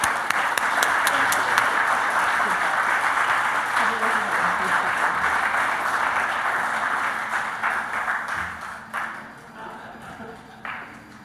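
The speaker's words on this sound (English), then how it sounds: "I want you all to give him one more round of applause" Applause fills a meeting room after an award is presented at a local board meeting, many hands clapping briskly with a few sharper claps up close, gradually thinning and fading over about eleven seconds as voices murmur beneath.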